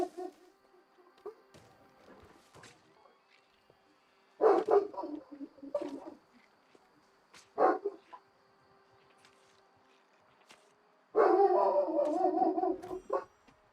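A dog named Max barking indoors in a home, several separate bursts of loud barks with quieter gaps between, ending in a sustained run of barking.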